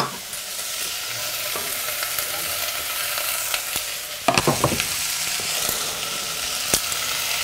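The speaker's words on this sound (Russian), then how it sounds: "Просто обжариваются в одной кастрюле." Vegetables fry together in a single pot for a cheese soup, a steady close sizzle running throughout with a burst of stirring clatter midway and a few sharp utensil clicks, no voices.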